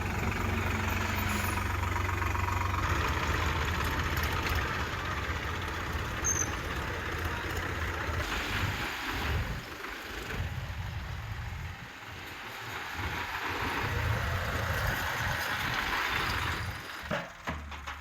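A procession of tractors carries a wedding party to a village, their engines rumbling in a steady low drone that swells and fades as they pass, with no talking over it.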